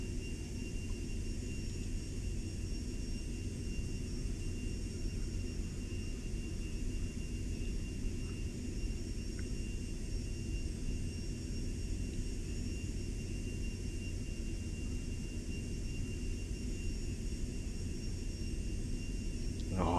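Constant whine and low drone of a Cirrus Vision Jet engine at taxi power in a flight simulator, holding steady for the whole stretch with a faint high tone on top and no talking.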